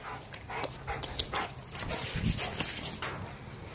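Dogs outdoors on a rainy day bark, yip and whimper in short excited bursts close by, with irregular rhythm and some background noise.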